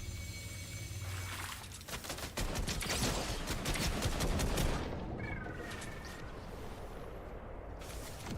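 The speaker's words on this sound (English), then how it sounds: "it's somebody shooting me and her" Video game gunfire in a rapid, dense volley of shots lasting several seconds, loud and close, then thinning out into quieter scattered noise.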